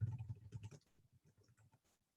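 Typing on a computer keyboard, a quick run of soft, close key taps that thins out into sparse clicks, quiet and alone with no talking.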